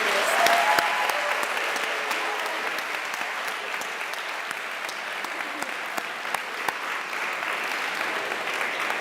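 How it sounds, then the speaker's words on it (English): Sustained audience applause for student policy debaters at a college presidential inauguration event, a dense steady wash of many hands clapping that carries on evenly throughout. "If you guys could give one more round of applause to these incredible debaters"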